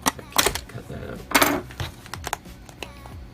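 Scissors cutting open the plastic packaging of a RAM kit, heard up close as a quick run of sharp snips, clicks and crinkly plastic rustles with uneven pauses between them.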